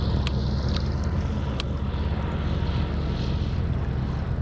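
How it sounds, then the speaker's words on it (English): A floatplane flies in to land on Inks Lake, its engine a steady, loud broadband roar that stays close throughout without voices. "there's literally a plane going to land on the water right here."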